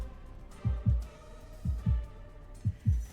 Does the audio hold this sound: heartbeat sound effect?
yes